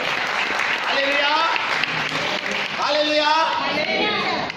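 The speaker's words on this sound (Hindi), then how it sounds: "अरे तालियां बजाएं यीशु के लिए।" A church congregation claps for Jesus, steady applause running throughout beneath a preacher's loud, melodic voice.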